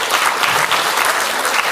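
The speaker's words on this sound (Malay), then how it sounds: "kita berikan tepukan kepada Dr. Rozaimi" Audience applause for Dr. Rozaimi at a public forum on extremism in Malaysia, a dense, steady wash of many hands clapping that stays loud and even throughout.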